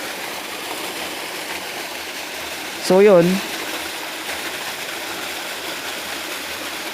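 Water pours steadily onto rock, a continuous rushing splash like a small stream or waterfall heard at close range, with a brief voice breaking in partway through.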